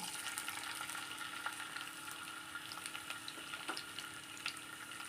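Ginger frying in coconut oil in a pan for a Kerala mango curry gives a steady, faint sizzle with scattered small crackles and pops throughout, with no voices.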